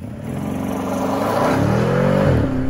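A 2021 Bentley Flying Spur V8 engine revs up loudly and steadily, pitch rising and falling as it accelerates, close by with no voices.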